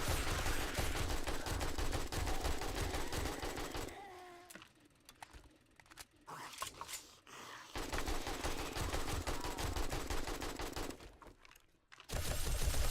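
Player's weapon firing in 7 Days to Die: dense, rapid automatic bursts, close and loud, broken by a short lull with scattered shots and mechanical clicks before the rapid fire resumes.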